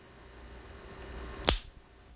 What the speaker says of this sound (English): For me, the signal is a tongue click.